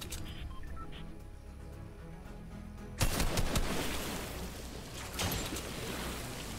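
After a few quieter seconds, rapid bursts of Fortnite gunfire break out abruptly and keep rattling loudly to the end.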